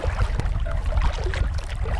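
A boat engine runs hard in high gear on Magaguadavic Lake, a steady loud droning roar mixed with wind buffeting the microphone.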